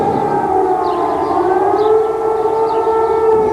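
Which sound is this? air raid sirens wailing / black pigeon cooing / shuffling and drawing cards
air raid sirens wailing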